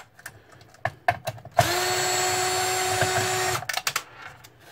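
Power screwdriver whirring steadily for a couple of seconds while backing screws out of a Samsung SyncMaster 520TFT monitor during a teardown, framed by close clicks and handling knocks before and after.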